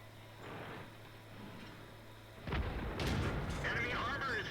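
A tank cannon firing in World of Tanks, a T37 battling against a KV-85, with one loud boom around the middle and a second shot soon after over steady engine rumble and game background noise.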